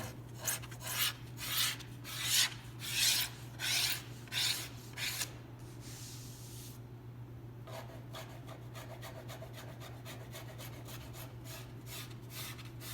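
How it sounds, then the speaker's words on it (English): A hand scraper draws across dried mahogany inlay on a guitar back, a run of rhythmic rasping strokes up close, then a pause and a quicker series of lighter scrapes over a steady low hum. "so now it's totally dry and it scrapes really nice"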